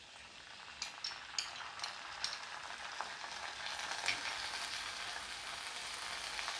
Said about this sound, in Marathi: याच्यात आता मी हे chilli sauce, red chilli sauce टाकते आहे